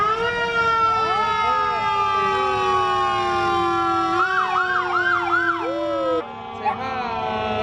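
A fire truck siren wails loudly at a Christmas Santa parade, its rising and falling tones sweeping close by with a few quick yelps, while people talk nearby.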